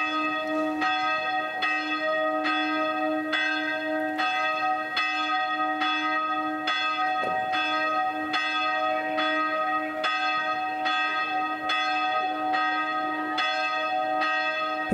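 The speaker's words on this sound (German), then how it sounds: "läuteten ein letztes Mal die Glocken am Maria Hilf" Church bells at the Maria Hilf hospital ring steadily and loudly in a regular repeating pattern, their tones overlapping and sustained throughout with no voices.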